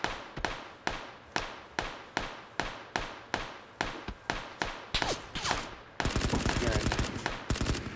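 Gunfire in PUBG: a steady series of single loud shots at an even rhythm, about two per second, then a dense burst of rapid automatic fire near the end.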